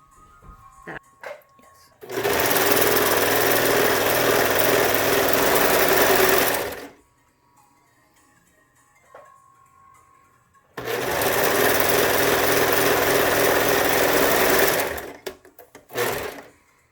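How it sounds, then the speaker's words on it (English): A serger sewing machine hums loudly in two long sustained runs while finishing the bottom edges of a fabric face mask, separated by a quiet pause with faint handling noises. "I'm going to serge the bottom edges of these"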